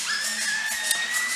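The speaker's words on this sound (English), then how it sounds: "and we have a whistle" A referee's whistle shrills at an ice hockey game, a steady high tone lasting about a second over constant arena crowd noise.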